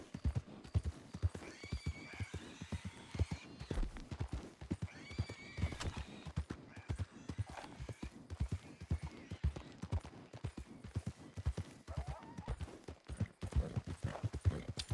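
Steady clip-clop of a video game horse's hooves trotting in a quick, even rhythm, with occasional whinnies over the top, close and clear.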